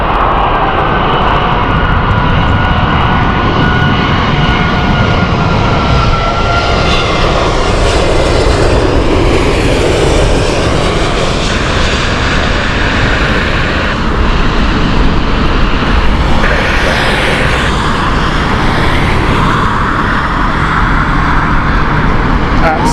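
An aircraft on runway 27 left at Heathrow Airport fills the scene with a loud, steady engine roar that stays close and continuous throughout.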